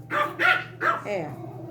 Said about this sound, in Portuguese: Não sei se vocês conhecem, mas é a minha cachorrinha cheia de personalidade.